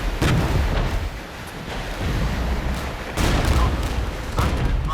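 Artillery in the Regiments PC war game fires smoke rounds, with repeated booming blasts and rumbling explosions overlapping in a dense, loud barrage.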